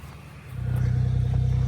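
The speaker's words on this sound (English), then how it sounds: "So we're gonna move this truck back a hair and see if we can fit Justin side by side on the front." Mud truck being prepped for a Louisiana mudfest, its engine idling low and then swelling into a steady, loud rumble with a rhythmic pulsing as it is eased backward a short distance, close by with no talking.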